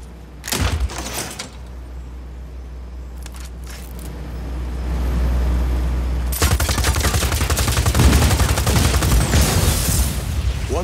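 Gunfire in the video game Just Cause 4, a dense burst of shots erupting after several seconds of low engine-like rumble, loud and continuous to the end.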